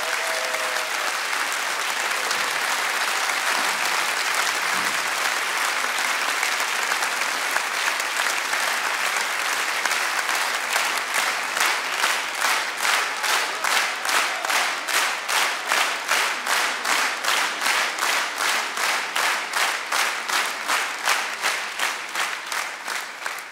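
Audience applauding the Jerusalem East and West Orchestra at a concert, loud sustained clapping from a large hall that settles into rhythmic unison clapping in the second half.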